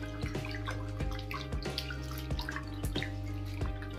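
Water splashes and drips steadily as fresh spinach leaves are rinsed and rubbed by hand under a running kitchen tap, with irregular close splashes throughout.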